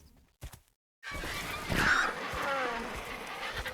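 A creature call from an Andrewsarchus in Ark: Survival Evolved: a short grunt, a brief silence, then a long, hoarse, goose-like honking bellow that stays fairly close.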